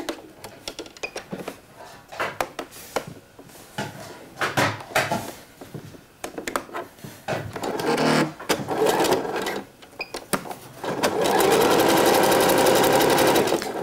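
A sewing machine runs a classic zigzag stitch to tack lining onto a two-piece swimsuit, whirring in repeated short bursts with small clicks between, then one long steady run near the end.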